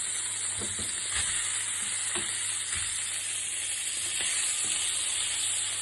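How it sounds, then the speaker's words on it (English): Octopus frying with boiled potatoes for an Italian-style dish gives a steady, close sizzle, with light stirring knocks every second or so and no voices. "let's fry the octopus with some boiled potatoes."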